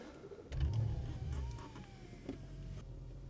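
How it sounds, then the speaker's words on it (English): A car engine starts up: a low rumble kicks in abruptly and settles into a quiet idle, heard faint and close with a thin whine over it. "So we're gonna start the car,"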